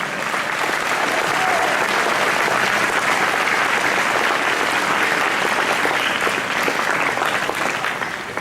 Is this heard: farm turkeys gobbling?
no